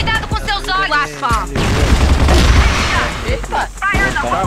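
Gunfire in a multiplayer shooter video game: a dense, loud burst of rapid shots and booms in the middle, with excited talk from players before and after.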